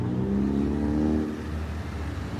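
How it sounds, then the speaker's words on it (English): A car passes close by on a street, its engine whir swelling loudly and then easing off, with steady traffic noise behind it and no talk. "It's just a constant stream of cars, though, you know?"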